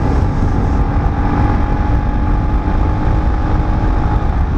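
Loud, steady engine drone from an AKT TTR 200 motorcycle ridden through road curves, buried in constant roaring wind noise with a faint sustained hum.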